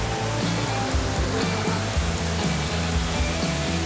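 A waterfall near Vellore roars as a steady, dense rush of falling water, loud and continuous, with no voices over it.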